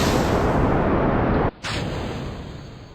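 A rocket engine fires in the space simulation game Kerbal Space Program: a steady, loud roar cuts out for a moment, then surges back and holds on with a thin high whine.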